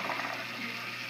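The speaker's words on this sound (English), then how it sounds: "I've run the water up into the grow tank up here" Water pumped up into an IKEA aquaponics grow tank gives a brief, steady rush and gurgle of flowing water, close by and continuous, with no talking.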